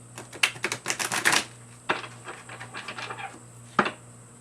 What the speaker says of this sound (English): I'm going to shuffle over here.